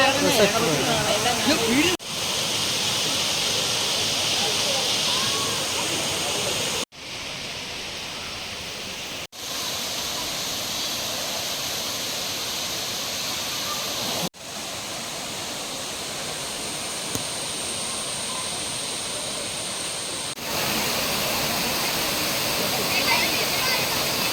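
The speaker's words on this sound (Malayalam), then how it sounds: "അടിപൊളി വെള്ളച്ചാട്ടം എന്ന് പറഞ്ഞാൽ ഒരു ചെറിയൊരു വെള്ളച്ചാട്ടം" Small rocky waterfall at Aruvikkal in Pala, Kerala, pouring in a steady, close, full-bodied roar of rushing water, broken by a few abrupt cuts, with faint voices near the start.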